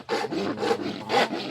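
Rhythmic rasping strokes of a saw cutting through hard water buffalo horn, three or four pulls back and forth, close and fairly loud with no talking.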